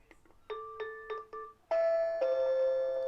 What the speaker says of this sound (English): you hear that doorbell clicking right there